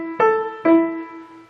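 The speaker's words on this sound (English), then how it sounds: "And the staccato notes will sound like this." Two detached, bouncy piano notes from Schumann's Wild Horseman, each struck sharply and left ringing briefly, played alone and close with no talking.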